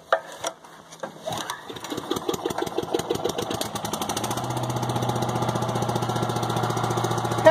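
A leaf vacuum engine on a New Holland tractor setup, low on fuel and needing choke, catches after a few sputters, then fires in a rapid regular chugging that settles into a steady loud close-up idle, with no talk.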